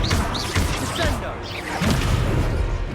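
Spell impact from the Descendo slam in a Slytherin-run wizard video game: a dense, loud crashing burst with rumbling thuds and swirling magical effects, layered with game music and busy action sounds throughout.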